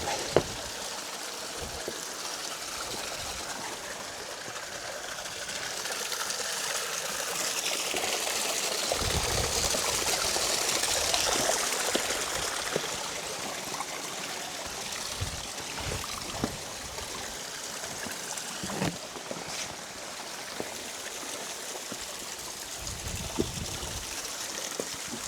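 Mountain stream of water flowing down Kinder Scout, a steady broadband rushing and trickling that persists close by throughout, with occasional low gusts and brief knocks.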